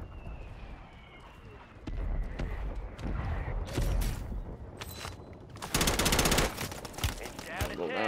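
Bursts of gunfire in a Call of Duty ranked match, mid-level and scattered over several seconds, with a dense louder volley near the end, mixed with game effects and voices talking.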